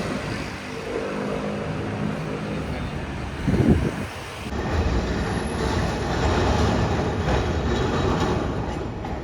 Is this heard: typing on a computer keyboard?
no